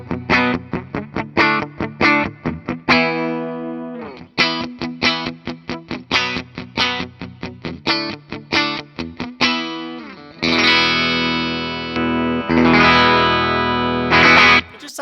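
A Guild Surfliner electric guitar played on its bridge pickup rings out clean, bright, rhythmic strummed chords with sharp attacks, then a few sustained ringing chords toward the end.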